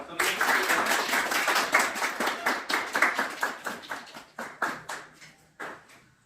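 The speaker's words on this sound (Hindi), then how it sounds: "तालियां" A crowd at a school staff farewell party claps in a dense burst that thins out into scattered, separate claps toward the end.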